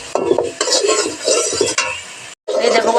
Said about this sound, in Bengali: এখন আমি ভালো করে কষাবো, মশলাটাকে ভালো করে কষানো হবে